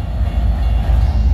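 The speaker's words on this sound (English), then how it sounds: "Here goes the train" A Norfolk Southern freight train rolls past with a loud, steady, low rumble of wheels and cars, close by and continuous through the short stretch, with no voices.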